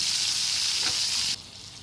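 Curry leaves, green chilies and tomato slices fry in plenty of oil with a steady, bright sizzle that cuts off abruptly near the end, leaving a faint hiss.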